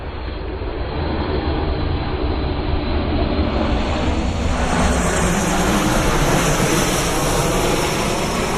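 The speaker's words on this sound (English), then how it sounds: "here comes an airplane" Airplane flying overhead above a homestead, a broad roaring drone that swells steadily louder as it passes, loud and continuous with no talk.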